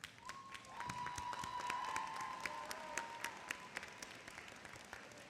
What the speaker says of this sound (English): So graduates, if you could just rise and applaud your families